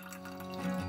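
Water dripping and trickling into an old PVA glue bottle with a nozzle, a brief, faint, steady liquid sound heard alone.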